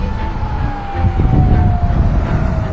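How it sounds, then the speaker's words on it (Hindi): Air raid sirens sounding across Israel during a missile attack, a sustained wailing tone holding steady over low rumbling background noise. "पूरे देश भर में सायरन्स बजने शुरू हो गए थे।"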